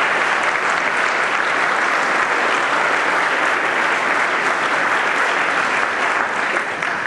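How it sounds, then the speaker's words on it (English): Audience in a hall applauds alumni and staff with steady, dense clapping that holds at full strength throughout, with no voices standing out. "give them a great round of applause"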